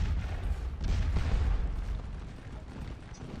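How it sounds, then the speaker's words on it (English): Artillery batteries fire at retreating howitzers in the Napoleonic battle game Scourge of War Waterloo, at Quatre Bras. The result is a continuous, loud low rumble of overlapping cannon booms that swells in the middle and slowly fades. "The guns are engaging."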